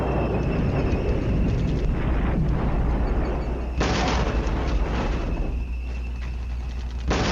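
Artillery shells pound enemy infantry in a military strategy video game, with deep booming explosions rolling into one another in loud, heavy waves and a sudden fresh blast partway through.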